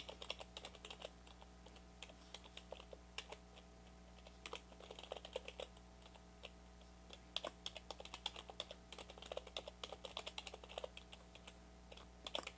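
Rapid keystrokes on a computer keyboard while editing a Linux config file in the vi editor, in irregular bursts of clicks with brief pauses, close and fairly faint over a steady low hum, with no talking.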